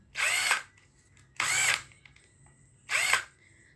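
A National EZ6504 power drill switched to reverse, whirring in three separate short bursts of about half a second each, with pauses between them, loud and close.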